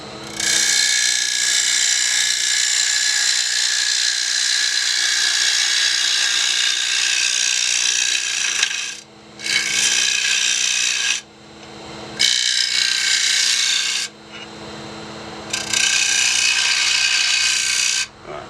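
Small cedar wood bowl having its inside trimmed on a lathe, a loud, steady cutting whir in several long bursts separated by brief pauses, with no talking.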